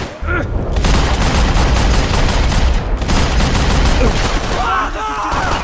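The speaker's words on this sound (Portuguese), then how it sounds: "Tô atirando pra dar cobertura!" Dense gunfire in the video game Max Payne 3, a loud, near-continuous fusillade of shots and booms filling the whole stretch, with brief dips and a voice shouting over the end.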